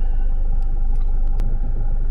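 Land Rover Freelander 2 engine labouring off-road on boggy ground, a steady low rumble that stays loud and close throughout, with a brief sharp knock near the middle.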